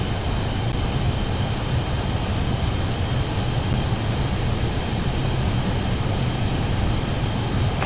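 A Pilatus PC-24 private jet's engines roar as it accelerates for takeoff, a loud, constant wideband rush heard from close by without a break.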